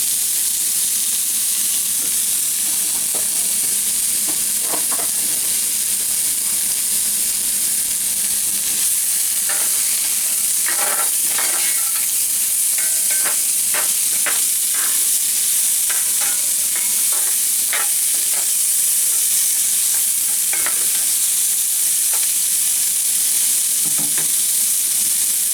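Mirepoix sautéing in oil in a pan makes a steady sizzle, with scattered stirring clicks and scrapes from about ten seconds on, and no one speaks.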